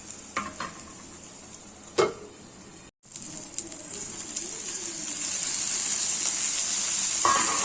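Tamarind sautéing in a pan for a green chilli chutney, a quiet sizzle with a few light stirring clinks, the hiss swelling toward the end; birds coo faintly in the background.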